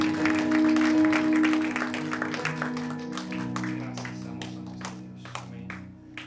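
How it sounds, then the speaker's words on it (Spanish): A church congregation claps their hands together during a service, a continuous patter of applause over sustained music and a voice, gradually thinning out toward the end. "Dele palmas fuertes al Señor"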